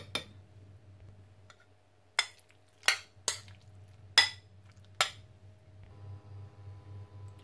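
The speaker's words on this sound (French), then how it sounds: "Et on mélange bien." A spoon mixes a pepper seasoning in a bowl, giving five sharp, bright clinks spaced irregularly over a quiet background hum.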